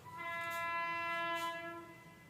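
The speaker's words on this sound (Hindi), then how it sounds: "अभी जो ट्रेन गुजर रही है इसका जो हॉर्न था इसने बजाया" A passing train sounds a long, steady horn, a rich multi-tone blast that swells and fades slightly, heard at moderate distance and fairly faint.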